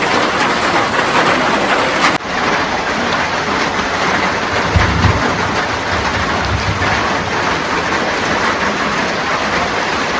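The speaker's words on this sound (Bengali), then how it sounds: "আবারও বৃষ্টি শুরু হয়ে গেছে" Steady rain pours down outdoors as a dense, continuous hiss, loud and close throughout, with a brief dip near the start and a low rumble in the middle, no voices heard.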